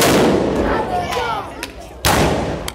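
Three homemade potash guns go off together in a loud, booming blast, with a second sharp bang following moments later outdoors.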